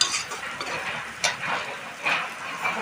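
Cold leftover rice frying in a pan: a steady close sizzle broken by a few louder scraping bursts as it is turned, with no voices.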